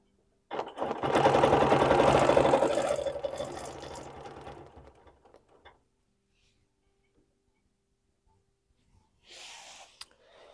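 A sewing machine stitches ruler-guided quilting circles on a quilt sandwich in one steady run of about four seconds that tapers off, followed by near silence and a brief faint sound near the end.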